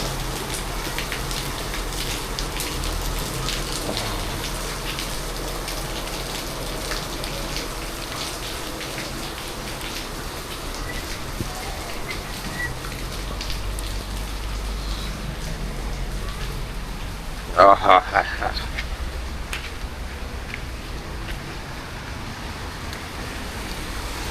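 First monsoon rain falls steadily in Mumbai, a continuous patter of drops on surfaces with faint traffic noise beneath, and a short louder knock of nearby activity near the end.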